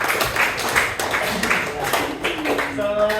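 Classmates clapping for a class presentation, a modest, uneven round of hand claps in a classroom with voices mixed in and a tone appearing near the end.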